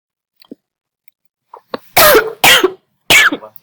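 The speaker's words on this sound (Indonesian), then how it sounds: "Lu jadi batuk." Three sharp, loud coughs close up, coming in quick succession after a few faint small sounds.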